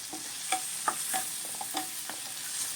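Ridge gourd frying in ghee in a pan, a steady close sizzle broken by several sharp stirring clicks and scrapes from a spatula, with no voices.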